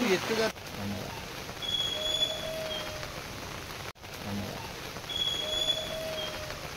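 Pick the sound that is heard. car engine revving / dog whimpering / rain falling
rain falling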